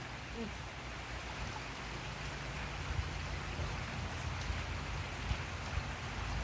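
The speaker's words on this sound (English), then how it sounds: "Even the rain in Hawaii is pretty." Steady rain pours down in Hawaii with a constant broadband hiss, a few louder drops or splashes standing out near the middle and end.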